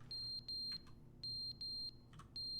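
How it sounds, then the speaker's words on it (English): Fire alarm in The Stanley Parable, sounding a run of high, piercing electronic beeps in short regular bursts with brief gaps between, faint and steady. "It's the fire alarm? It might be a fire alarm."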